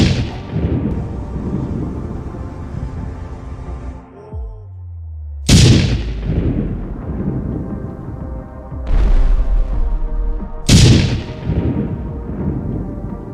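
Massive Ordnance Penetrator bunker buster bomb impacts: three loud, sudden booming blasts, each followed by a long rumbling decay, with a brief lull and lower rumble between the first and second.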